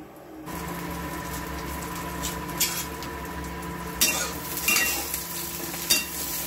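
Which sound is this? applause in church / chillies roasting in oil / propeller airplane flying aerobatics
chillies roasting in oil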